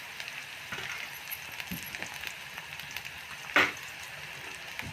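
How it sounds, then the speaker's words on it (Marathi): Green chilies, chana dal and ginger sauté in hot oil in a pan, giving a steady, soft sizzle with faint crackles and one brief louder spatter. "आता आपल्याला ही 2 ते 3 मिनिटं आता कलर जरा चेंज होऊस्तर आपल्याला हे थोडेसे तेलामध्ये परतून घ्यायचं आहे"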